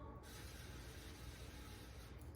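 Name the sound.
spraying baking pans lightly with olive oil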